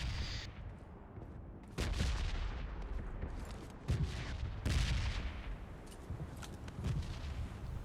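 Video game gunfire breaks out from behind the player, repeated sharp shots in several bursts over steady in-game background noise, fairly loud with no talk.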